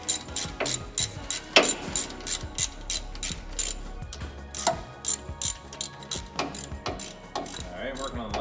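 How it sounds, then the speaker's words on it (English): A ratchet works the pump bracket bolts on a ClearBlast machine, giving rapid, close clicking bursts in a steady back-and-forth rhythm with occasional metallic clinks, with no talk. "working on the last bracket here"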